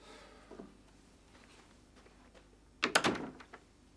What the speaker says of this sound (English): Now get the bloody hell out of here and shut the door on the way.